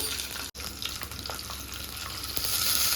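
A green chili sizzles in hot oil with cumin and mustard seeds, a steady close frying hiss with light crackles and one brief break near the start.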